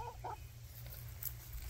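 Soft chicken clucks, a couple of short calls near the start, over a steady low hum of background noise.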